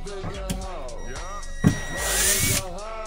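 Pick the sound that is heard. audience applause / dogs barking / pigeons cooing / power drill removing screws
power drill removing screws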